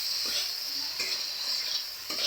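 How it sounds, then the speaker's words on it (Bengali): Tomatoes fry in a pan with a continuous close sizzle while a utensil stirs them in a few brief scraping strokes, with no talking. "তারপর আমি টমেটোগুলো নেড়ে নেব।"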